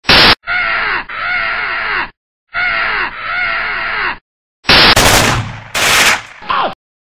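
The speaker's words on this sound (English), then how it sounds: "I'm a firing my laser." A laser firing in a pivot stick-figure animation, rendered as loud, harsh, buzzing electronic zaps in repeated bursts separated by silences, ending in a couple of bright crackling blasts.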